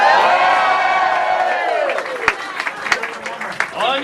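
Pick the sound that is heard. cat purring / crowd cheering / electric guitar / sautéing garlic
crowd cheering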